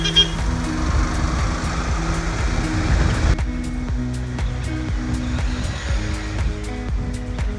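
Lorries rumble past one after another on a mountain road near the Tamil Nadu–Kerala border, with steady engine and tyre noise and a repeating electronic beep pattern from close by.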